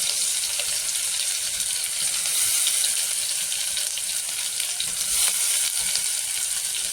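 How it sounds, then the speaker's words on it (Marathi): Garlic and green chili paste hits hot oil with curry leaves, producing a loud, continuous hiss and crackle that holds steady throughout without any voices. "कढीपत्ता टाकून झाल्यानंतर लसूण आणि मिरची पेस्ट केली आहे ते टाकूया."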